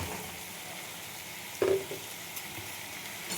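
Bottle gourd pieces frying in a spice mix give a soft, steady sizzle in the pan, with a brief louder stirring clatter around the middle and quiet crackle continuing after.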